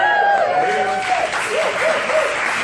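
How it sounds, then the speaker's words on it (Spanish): An audience at a product presentation applauds in a dense, steady burst of clapping that fills the whole stretch, with a voice talking over it early on. "un aplauso, a ver"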